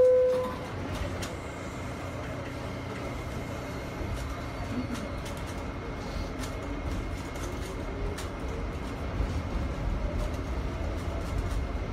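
A New York City subway train rumbles steadily along the track from inside the car, with a constant low roar, faint rattles and clicks, and a brief tone near the start.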